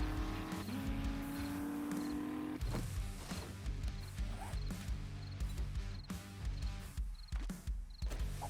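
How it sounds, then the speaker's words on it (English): A truck driven in the 7 Days to Die Alpha 20 video game: a droning engine hum that steps in pitch, with bumps, thuds and brief squeals as it rolls along. "I'm just gonna pull the truck up a little bit to this house."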